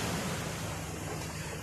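Ocean surf rolls in at a beach in Puerto Galera as a continuous broad wash, steady and fairly loud, with no voices.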